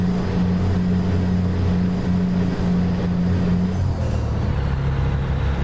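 A 350-horsepower truck engine in Euro Truck Simulator 2 with pro mods labors under full throttle, its loud steady drone shifting down in pitch partway through.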